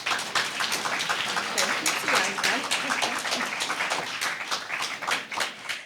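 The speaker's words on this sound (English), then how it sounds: "Give her another round of applause." Audience applause after a student speech at a secondary-school impromptu speaking competition semifinal in Antigua, a dense, steady patter of many hands clapping at moderate volume for several seconds, with some voices mixed in.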